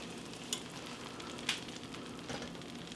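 Baked broccoli macaroni and cheese, fresh from a 25-minute bake with crispy crumb topping, bubbles and sizzles softly in a steady hiss, with a few small pops breaking through.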